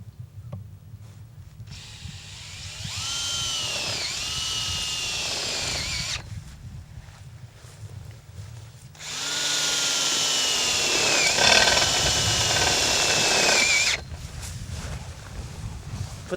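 A cordless drill drives small self-tapping screws into a fence post in two loud bursts, each whine rising and falling as the screw bites, with quiet pauses and low outdoor rumble between them.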